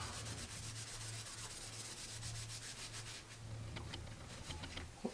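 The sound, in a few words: rubbing and cleaning a cork fishing rod grip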